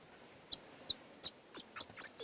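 Several short, faint bird calls at uneven intervals in a quiet outdoor valley setting, growing a bit more frequent and louder toward the end.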